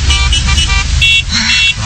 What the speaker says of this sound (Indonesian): Klakson terus lagi.